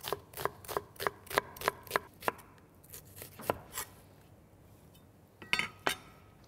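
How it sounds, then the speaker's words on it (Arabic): An onion is sliced into strips with a knife on a board: a quick run of crisp, evenly spaced chops, then a few slower cuts after a pause, close and clear with no talking. "راح نسوي شرايح من البصل"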